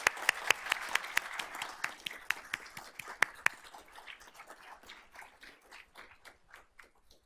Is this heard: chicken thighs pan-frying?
no